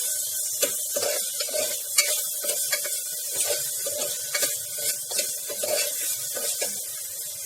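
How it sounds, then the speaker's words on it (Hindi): Ginger garlic paste and onion sizzle and fry in a pan, a loud close hiss with a steady bubbling crackle and repeated stirring scrapes all the way through. "ये हमने डाल दिया पौने चम्मच जितना जिंजर गार्लिक का पेस्ट। अब इसको थोड़ा सा पकाना है।"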